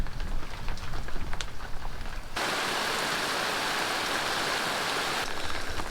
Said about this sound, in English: It is absolutely hossing it down at the moment